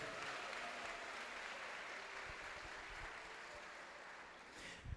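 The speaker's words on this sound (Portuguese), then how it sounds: "Pode aplaudir o Senhor Jesus" A church congregation applauding during a sermon, a continuous faint wash of clapping that carries on for several seconds with a few louder knocks near the end.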